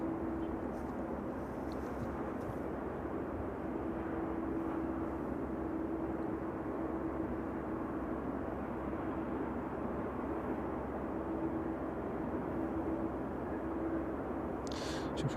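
A West Atlantic Boeing 737 at East Midlands Airport in the evening gives a steady, distant jet engine roar that holds constant throughout with no pauses.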